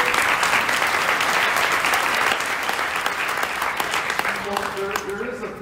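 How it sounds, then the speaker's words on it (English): Audience at an alumni awards ceremony breaks into a loud, sustained round of applause that gradually thins out, with a voice starting to speak as the clapping fades. "Big round of applause."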